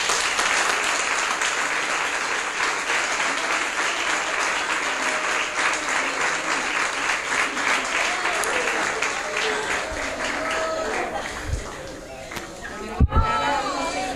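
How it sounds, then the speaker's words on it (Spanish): Congregation applauding during a Spanish-language church service, a sustained dense roar of clapping that runs steadily for most of the stretch, then thins near the end as voices and a couple of thumps come through. "Denle un aplauso a Jesús."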